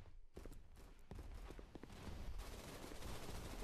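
Rapid gunshots ring out in a VR shooter game played on an Oculus Quest 2, a steady crackle of quick reports under a dense, noisy game mix with no talk.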